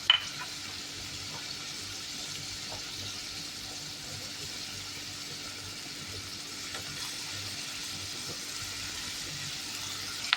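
Chopped onions fry in hot oil in a steady, quiet sizzle that continues evenly throughout, with no talking.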